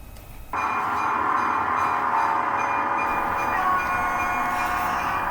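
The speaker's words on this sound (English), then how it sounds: "After a while, the next train appears." A T47 locomotive hauls wagon carrier trucks past, arriving abruptly as a loud, close, steady rumbling roar with rolling wheel noise that holds for several seconds, no voices.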